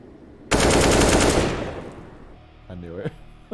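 A loud, close burst of rapid automatic gunfire in the Counter-Strike video game rattles for about a second and trails off, followed by a short voice.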